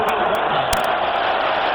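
Football stadium crowd at Jacksonville during the 1998 AFC Wildcard game between the New England Patriots and Jacksonville Jaguars, a steady dense roar of cheering and whooping with sharp whistle-like bursts over it.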